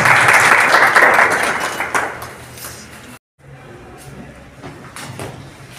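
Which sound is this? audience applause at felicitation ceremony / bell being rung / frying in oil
audience applause at felicitation ceremony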